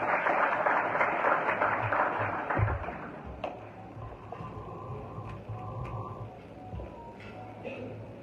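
An audience at an anti-corruption day ceremony in Haiti applauds to welcome a UN official. The clapping is dense and full at first, then thins out to scattered claps and quieter room noise.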